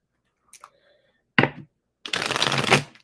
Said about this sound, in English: Let me get a good shuffle.